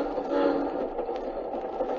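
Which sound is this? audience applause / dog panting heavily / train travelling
train travelling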